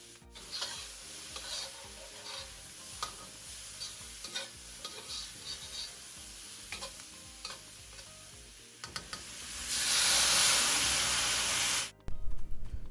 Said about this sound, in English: So I'm going to stir fry this for about 2 minutes on high heat.